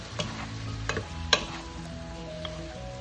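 Jackfruit sautés in a pan for ginataang langka, a soft steady sizzle under several light scraping and clinking stirs of a utensil against the pan, close and fairly quiet.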